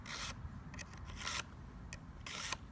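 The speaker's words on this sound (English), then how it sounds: "I'm just polishing the wire edge off the blade" Steel knife blade being polished to remove the wire edge left from sharpening, giving several short, close rasping strokes separated by brief pauses, with no talking.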